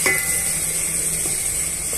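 Steady sizzle as yogurt is stirred into chicken curry in a hot pan, a continuous frying hiss with faint scraping of the spoon.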